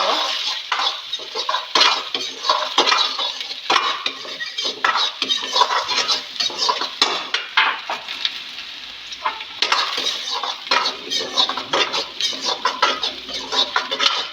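Ginger pieces frying in a pan as chicken cooks, with continuous metallic scraping and clattering of a utensil stirring against the pan, busy and close, with no talk over it.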